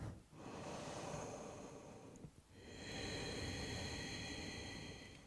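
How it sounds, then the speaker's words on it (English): Slow, deep breathing during a home yoga session in a hip-squaring standing pose, a long steady airy inhale and exhale with a short pause midway, close and fairly soft. "Breathing."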